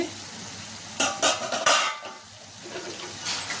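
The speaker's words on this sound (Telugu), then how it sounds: "ఇలా ఫ్రై నూనెలో ఇలా ఫ్రై అవుతుంది కదా" Chicken sizzles in oil in a pan as a utensil scrapes and stirs in a few bursts, then the frying continues more quietly.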